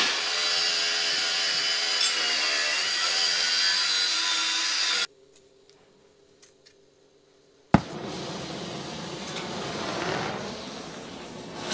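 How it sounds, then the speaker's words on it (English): A stone drilling machine whines loudly for several seconds, falls silent briefly, then starts up again with a sharp jolt and keeps running. "What do you call it, Cosmin? Drilling machine."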